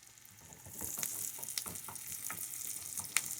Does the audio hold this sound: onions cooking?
yes